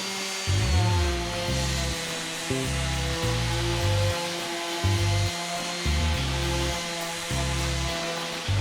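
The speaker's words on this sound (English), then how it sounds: "now I'm going to turn my attention over here and start sanding" Power sander working wood for a farm-style table, a loud steady motor whine with a hum that changes pitch as the tool bears down and lets up, stopping and restarting briefly.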